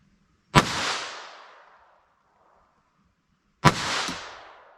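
Two loud, close .22 LR pistol shots from a Taurus TX22 with a 4.1-inch barrel firing CCI Velocitor 40-grain rounds, each a sharp crack with a short ringing tail, spaced about three seconds apart, with no talking.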